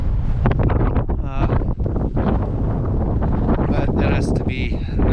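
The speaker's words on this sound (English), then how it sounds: "The wind is blowing the snow over the trail" Strong wind buffets the microphone on a snowy skate-ski trail at Ustaoset, Norway, in January, making a loud, continuous roar with shifting gusts throughout.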